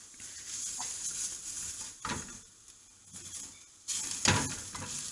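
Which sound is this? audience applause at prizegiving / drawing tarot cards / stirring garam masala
stirring garam masala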